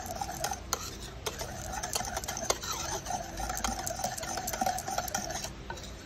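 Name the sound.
stirring galapong rice-flour mixture for inutak dessert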